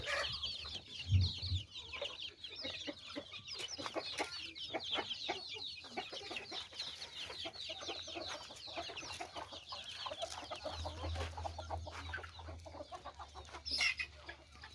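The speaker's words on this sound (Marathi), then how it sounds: "हा 1 वर्षाचा कोंबडा आहे." Chickens, young chicks and a one-year-old rooster on a poultry farm cluck and chatter continuously at low volume, with a few louder calls standing out near the start and end.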